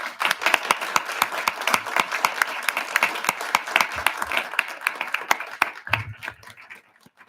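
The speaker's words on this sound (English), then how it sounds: "Let's all give them a round of applause." An audience at a school board of education meeting claps enthusiastically after a student performance, a dense, continuous burst of applause that thins out near the end.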